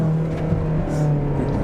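A Ferrari engine running close by with a low, steady droning hum and a slight rise in revs, loud and continuous through the short stretch with no talk.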